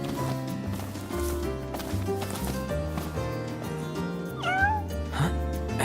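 Cat in Final Fantasy XV giving a short, rising meow near the end, heard over steady game music with a bass line and melody.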